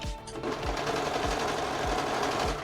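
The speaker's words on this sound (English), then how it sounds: "we're just gonna sew along the circle" Sewing machine stitching steadily around the circular neck hole of a homemade top, a dense continuous mechanical whir with a regular low thump repeating about every half second, close and loud with no talking.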